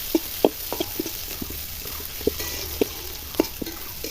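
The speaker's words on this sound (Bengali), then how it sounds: "পেঁয়াজগুলো ভালো করে ভেজে নিচ্ছি।" Onions frying in a pan on a clay stove, a soft steady sizzle with intermittent light scraping and tapping of a stirring utensil, close and moderately quiet.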